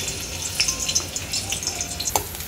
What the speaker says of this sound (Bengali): তেলটা গরম হলে রসুন আর পেঁয়াজটা দিয়ে একটু নরম হওয়া পর্যন্ত ভাজবো